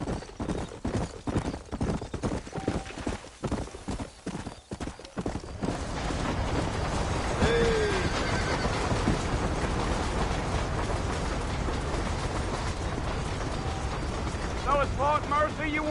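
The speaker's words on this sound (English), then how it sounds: "You ain't gonna find sturdier horses than these in all of New Ulster." Horses in Red Dead Redemption clip-clop in a quick rhythmic trot at first, then a broader rolling wagon rumble with ratcheting mechanism sounds takes over, a brief whinny rising midway.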